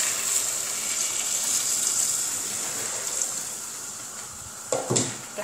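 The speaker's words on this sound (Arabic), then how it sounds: "هلا انا رح ضيف المي." Water is poured into a pot of kabsa spices and salt, a steady rushing, hissing flow with a louder splashing surge near the end.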